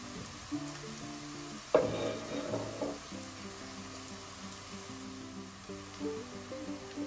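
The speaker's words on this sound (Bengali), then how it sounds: "আবারও একটু ভালোভাবে মিক্স করে ভেজে নেব কয়েক মিনিটের জন্য" Onion and ginger paste fries in a pan as it is stirred, giving a quiet, steady sizzle with a brief louder scrape and stir of the spoon near the start, then gentle continuous crackling.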